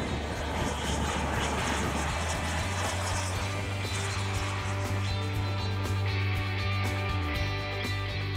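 Scale model jet aircraft, Alpha Jet and F-104 replicas, fly at a model championship, their turbine engines producing a loud continuous roar that swells and shifts in pitch as they pass.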